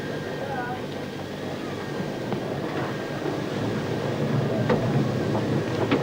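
London Underground battery electric locomotive L44, recorded from the cab on a District line test run from Ealing Common toward Barking in 1990, gives a steady, loud rumble of wheels and motors with some clatter and brief squeals.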